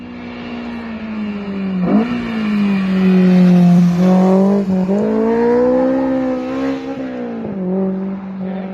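A Honda S2000 engine with a muffler delete rumbles and revs up sharply a few times, the pitch climbing and falling between blips, loud and close.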